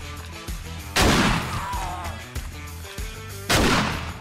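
Shotgun blasts in the survival horror game 7 Days To Die, two loud booming shots about two and a half seconds apart, each ringing out over busy game noise and music, with smaller impacts between.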